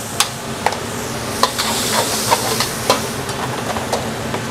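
Butter and garlic sizzle steadily in a hot pan, with a spoon scraping and tapping the pan about once every half second.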